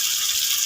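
Water is poured into a pan of spices being cooked, a short loud gushing splash heard alone.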